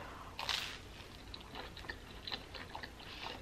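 A bite of egg is bitten and chewed close up, with soft wet crunches and squishy mastication sounds repeating quietly.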